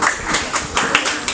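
Audience clapping for a speaker at a school debate on abolishing exams, a short loose burst of overlapping hand claps with soft uneven peaks, fairly close and without talk.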